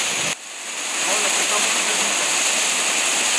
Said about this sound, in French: Une super cascade pulpeuse.